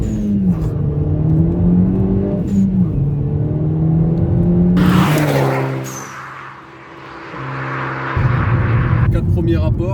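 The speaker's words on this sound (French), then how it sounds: "on entend bien la soupape de décharge" A 240 hp Volkswagen Golf GTI revs hard under acceleration through the gears, then its blow-off valve releases a loud hissing whoosh before the engine climbs again, with a person talking over the engine.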